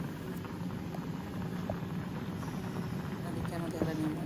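Pasta boils in a pot of water with a soft, continuous bubbling and light patter, close and fairly quiet.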